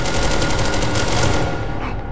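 Rapid automatic gunfire in the video game SCP: Secret Laboratory rattles loudly and continuously as a dense burst, tapering off near the end, with no talk.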